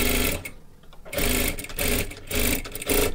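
A sewing machine runs in quick bursts with brief pauses as it double-stitches a seam on a katori blouse, its fast needle chatter loud and close.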